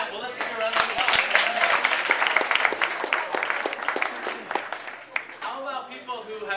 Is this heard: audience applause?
yes